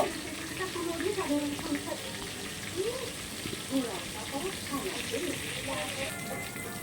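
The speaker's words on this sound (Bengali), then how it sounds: "আমি পিঠটা পুরো ভালো করে ভেজে নেব।" Magur catfish fries in a pan over raised gas heat, giving a steady broadband sizzle and crackle throughout, with a voice murmuring faintly over it.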